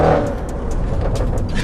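An Audi RS6 C7 estate fitted with a Milltek exhaust gives a loud, steady throaty rumble held for under two seconds with no pause, close and up front, with faint high chirps above it.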